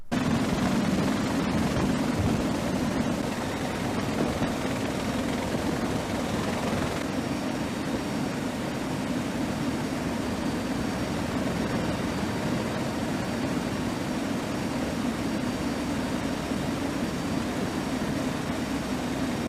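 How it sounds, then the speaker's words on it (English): A helicopter carrying heavy cargo comes in to refuel, giving a loud, steady rotor and engine roar that fills the whole stretch without letting up. "Here's some beautiful footage of a helicopter coming to refuel while also carrying some heavy"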